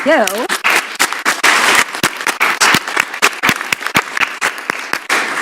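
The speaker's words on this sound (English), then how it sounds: "A round of applause for you" Loud applause from an audience of teachers and families at an evening school committee meeting, dense clapping filling the room, with a brief voice at the start as cheers and whoops rise over the steady sustained ovation.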